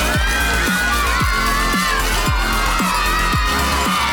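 A large crowd of students cheers and shouts continuously at a school hockey championship, a dense, loud wall of voices with whoops and screams, with repeated low horn-like blasts sounding under the roar.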